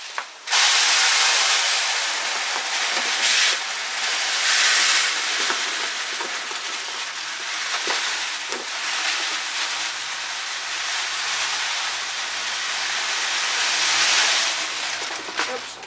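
Dry rice pours from a 25-pound bag straight out of the freezer, making a steady, loud hissing rush of grains that runs almost unbroken for the whole stretch, close up.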